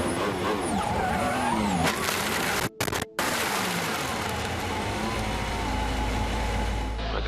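Lewis Hamilton's Formula 1 car skids under braking after a brake failure, a loud sustained engine roar with tire screech and sliding noise, broken by two brief dropouts, then settling into lower rumbling.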